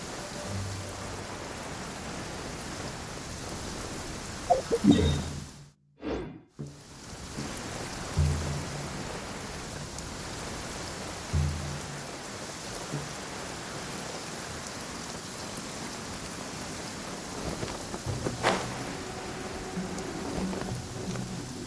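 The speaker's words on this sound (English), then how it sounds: "Don't stay out in the rain for too long." Steady rain falling in Genshin Impact, a continuous soft patter and wash of drops on surfaces throughout, with a brief dropout midway and a few faint thuds and game sounds underneath.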